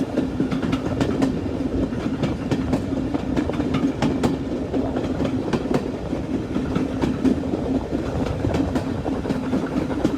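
A steam train rolls along steadily, its wheels beating out a continuous rhythmic clickety-clack over the rails, loud and close, with no voices, on the Strathspey Railway.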